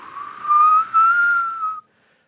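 A voice whistles to imitate the wind whistle on a fast-moving bicycle, producing one steady, slightly wavering tone of about two seconds, close and fairly loud, with a brief dip partway through before it stops.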